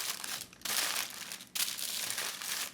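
Paper crinkles and crumples as a pleated cover is pressed and wrapped over a pudding bowl, with two brief pauses between close, steady rustling bursts.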